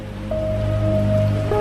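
Rain falls steadily outside, a dense hiss of drops on surfaces, with a faint sustained tone running beneath it, brief and fairly loud.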